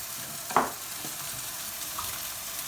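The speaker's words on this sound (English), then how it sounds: "we're going to fry that off" Leftover rice fries in a hot pan with a steady, soft sizzle, broken early by one sharp clatter of a utensil against the pan.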